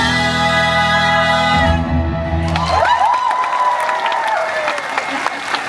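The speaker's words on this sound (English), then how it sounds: "Let's give one more big round of applause to these amazing musicians." A theatre audience bursts into applause and cheering at a Disney on Broadway concert, entering as the last sustained musical chord fades; loud, dense clapping with a few whoops continues steadily to the end.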